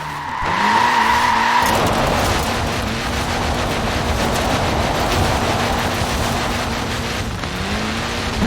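Tiny-wheeled Mini car tyres skid loudly in Forza Horizon 4, a sustained screech with a steady tonal whine and engine drone running for several seconds, alone without talk.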